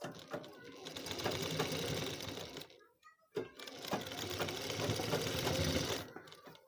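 Close sewing machine stitching a kurti neck, a steady fast mechanical whirr and clatter running in two long bursts separated by a short pause, with a voice speaking over it.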